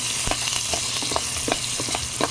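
Garlic and aromatics fry in hot cooking oil in a pan, a steady close crackling sizzle with scattered pops and stirring clicks, no talking.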